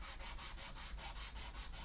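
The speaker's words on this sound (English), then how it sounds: "I'm going to start hand sanding it." Steady back-and-forth rasping of sandpaper on a steel longsword blade, hand sanded, a rhythmic scrubbing with about eight even strokes, close and continuous, no voices.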